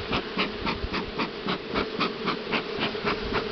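Buckfast honey bees swarm around an opened hive during a honey harvest, giving a steady, dense close buzz with rhythmic pulses and light knocking throughout.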